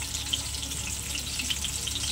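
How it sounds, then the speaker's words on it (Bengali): Ginger, dry chilli and five-spice seeds fry in hot oil for a dal tempering, giving a steady, soft sizzle that stays even throughout. "এই যে ভাজা হচ্ছে"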